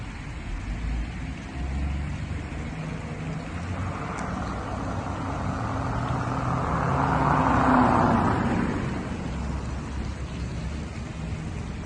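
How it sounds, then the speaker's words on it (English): A car passes on a road, its broad rushing noise swelling from about four seconds, peaking near eight seconds and then fading, heard alone over steady outdoor background without voices. "I was pretty nervous when I heard and then sensed that car coming storming by"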